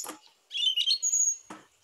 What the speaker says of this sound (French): donc là, c'est un chant de grive musicienne.